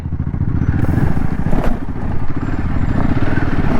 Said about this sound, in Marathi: खूप वेळ झाला बाईक चालवतोय